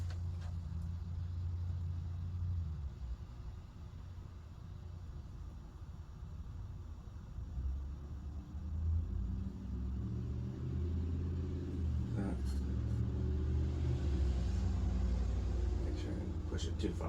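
An SMC Laguna KB-52 ceiling fan motor running on its low setting, a steady low hum and rumble that swells slightly partway through, with a voice talking over it.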